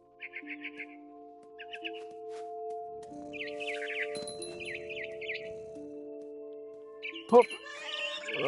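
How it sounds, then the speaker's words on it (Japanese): Bird chirping in a Finch family video game, with short bursts of high tweets in the opening seconds and again near the end, heard over steady game music and a voice talking. "鳥さん。 待って、鳥さん。"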